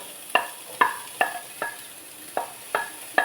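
Onion frying in a pan for bread upma: a soft sizzle runs underneath while a spatula knocks against the pan in a regular rhythm of about seven sharp clinks, fairly close and alone.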